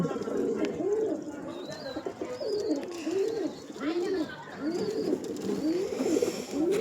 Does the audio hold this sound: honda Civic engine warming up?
no